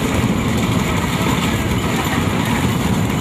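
A motorcycle engine runs steadily nearby at a bullock cart race in Sivaganga district, a continuous buzzing drone with a throbbing low rumble and no clear revving changes.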